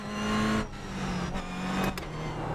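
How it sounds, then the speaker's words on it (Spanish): Steady engine drone from a racing simulator game car, loud and continuous with brief dips as gears change and the car brakes, no talking over it. "escuchad el motor del coche"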